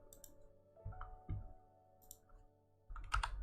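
Several sharp mouse clicks from a right-click copy and paste at a computer, spaced irregularly and close by, with a quick cluster of clicks at the end.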